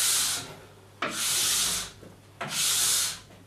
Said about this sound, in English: we want the wax to be in the pores, not on top of the base, so we're going to scrape it all the way down